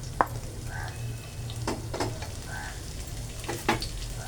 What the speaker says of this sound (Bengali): এটার মধ্যে আমি তরকারিটাকে সবজিটাকে আমি ঢেলে দিলাম